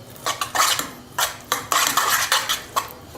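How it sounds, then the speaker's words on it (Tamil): A spoon scrapes and knocks against a bowl while stirring momo filling, irregular clinking and scraping strokes up close with no voices. "இப்போ நல்லா எல்லாத்தையும் மிக்ஸ் பண்ணிக்கணும்"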